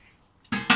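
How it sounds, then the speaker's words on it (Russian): A metal lid set onto a stovetop smoker pot used for smoking zander, giving two quick close clanks after a brief quiet start. "Накрываем крышкой."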